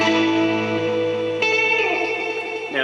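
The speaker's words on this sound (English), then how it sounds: "that's great for actually having a slapback echo on top of another longer echo" Guitar notes ring through a Boss DD-20 Giga Delay pedal, a quick slapback echo layered over a longer repeating echo, with sustained tones trailing and cascading into new notes.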